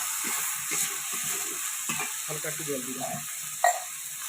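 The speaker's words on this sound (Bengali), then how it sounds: "কাঠের উনুনে মা রান্না করছে হালকা করে মশলাটিকে কুচিয়ে নিচ্ছে" Spices fry and are stirred in a pan over a wood-fired stove while fish curry with curd is made, a soft continuous sizzle with scraping stirs and one brief sharp knock.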